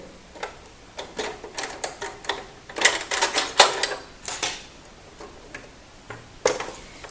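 Small plastic-and-metal clicks and ticks from removing a presser foot adapter on a sewing machine while switching to an invisible zipper foot, a loose irregular run of close, light taps with no talk.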